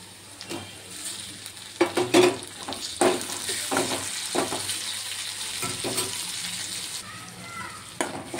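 Onions sizzling in a pan with asafoetida, mustard seeds and curry leaves, a steady close frying hiss broken by scraping stirs and clinks of a spoon.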